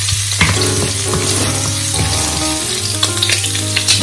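Garlic stir-frying in a hot wok for curry-powder shrimp: a loud, close, crackling sizzle with spatula scrapes and clanks scattered through it, and no voices.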